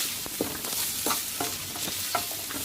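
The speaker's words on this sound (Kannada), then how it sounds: "ಈರುಳ್ಳಿ ಎಲ್ಲ ಒಂದು ಸ್ವಲ್ಪ ಕೆಂಪು ಫ್ರೈ ಮಾಡ್ಕೊಂಡ್ಬಿಟ್ಟು" Onions sizzle and fry steadily in a pan while a utensil stirs them in several short scrapes, close and fairly loud, with no voices.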